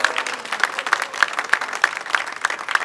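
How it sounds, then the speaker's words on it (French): Festival launch audience applauding, a moderate crowd of clapping hands with a few sharper individual claps standing out, steady throughout at medium distance. "Et je vous demande tous de les applaudir tous les deux."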